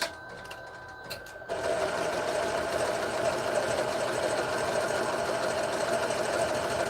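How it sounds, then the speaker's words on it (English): A sewing machine runs a satin stitch on a purse, starting abruptly after a brief quieter moment. It then hums and whirs steadily and loudly up close without any pause. "now we're going to do the actual satin stitch"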